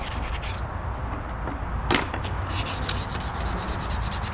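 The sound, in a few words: sanding edges with 320 grit sandpaper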